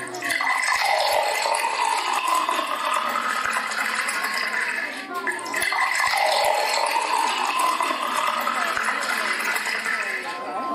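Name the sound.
water being poured into clay pots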